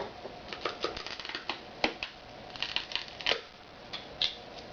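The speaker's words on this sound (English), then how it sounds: "I'm going to go ahead and enlist the aid of my trusty utility knife, and I'm going to cut along the side" Utility knife slicing along the side of iPod Touch retail packaging, giving a string of close, crisp scratchy cuts and small plastic clicks of moderate loudness, with no talking.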